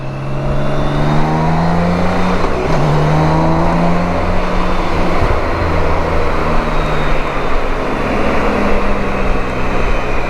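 A BMW K1600 GTL six-cylinder touring motorcycle cruising on an Italian motorway, its steady engine drone and heavy wind roar loud and continuous throughout with no pauses.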